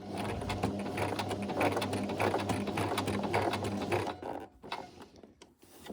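A sewing machine stitches a dart in fabric, running steadily with a fast, even mechanical whir, close and fairly quiet, then slowing and stopping near the end with a few last uneven stitches.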